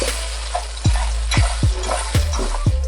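Onions sizzling in oil in a pot for a Ghanaian beans stew, a close, dense crackle with several low thuds from stirring spaced through the clip, no voices.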